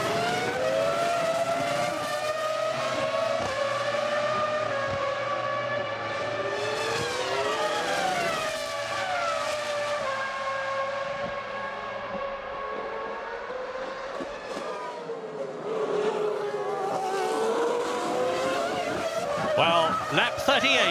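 Formula 1 cars racing at the 2001 Italian Grand Prix, with a Ferrari and a Williams BMW running close together: several high-pitched engine notes rise and fall as the cars pass, loud and continuous under a commentator's voice.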